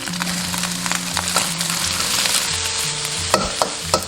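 Minced pork stir-fried in oil with scallion, garlic and red pepper for a Chinese eggplant claypot, a loud close sizzle with repeated spatula scrapes and clanks against the wok, no voices.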